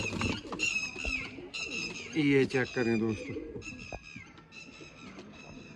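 Pale-roofed Sialkot pigeons of the Ustad Amjad Lohar line, kept by a pigeon fancier, coo and call close by while someone talks over them almost throughout.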